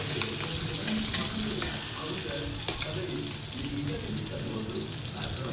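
Mustard seeds, cumin and green chilies sizzle in hot oil with a dense, steady crackling hiss and scattered pops, close and continuous throughout.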